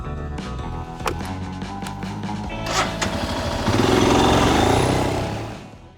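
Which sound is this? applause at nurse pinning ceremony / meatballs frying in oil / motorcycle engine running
motorcycle engine running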